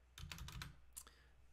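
Computer keyboard keys are typed in a quick burst of several close, crisp clicks, then a single later keystroke, all quiet and with no voice.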